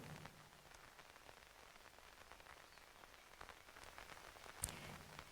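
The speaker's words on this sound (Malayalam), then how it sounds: "വലിയ മഴ പെയ്യുന്നുണ്ട് എന്ന് തന്നെയാണ് മനസ്സിലാക്കേണ്ടുന്നത്." Steady rain falling during heavy weather in Kasaragod, Kerala, a soft continuous hiss with scattered drop patter and a sharper spatter near the end, no voices.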